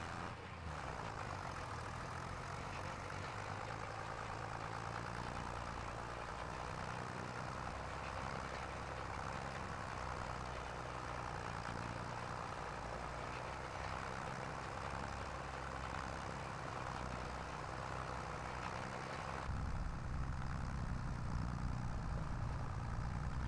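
Dirty, mud-covered tractor engine idling steadily, a loud, continuous low rumble with a deep throbbing undertone that lasts throughout and swells slightly near the end, with no talk.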